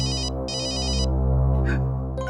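An electronic phone ringtone plays loud and close in repeating bursts of bright, beeping tones, with short gaps between, and no talking.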